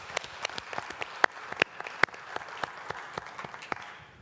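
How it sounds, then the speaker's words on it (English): Scattered audience members at a college event applaud the prize winners, with a light patter of claps and a few sharper, louder claps punctuating the sparse round. "Give them a little applause there."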